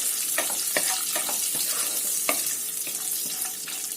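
Almonds roast in a pan for carrot kheer, giving a soft continuous sizzle broken by a string of sharp scraping and stirring clicks close by, with no talking.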